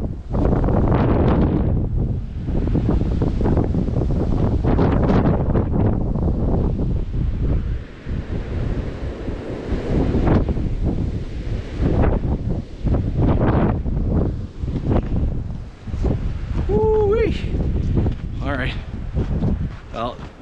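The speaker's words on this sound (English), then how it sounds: "That wind is something though." Strong wind gusts buffet the microphone on a mountain hiking trail through blueberry bushes on Moosic Mountain, a loud continuous roar with surging peaks throughout.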